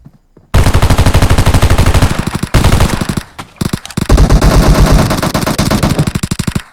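Loud, close automatic gunfire in the PUBG Mobile battle-royale game comes in long, rapid bursts of shots with brief pauses between strings.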